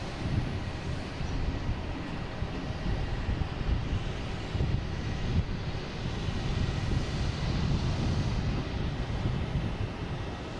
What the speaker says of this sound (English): we got a JetBlue coming in from LAX, an A321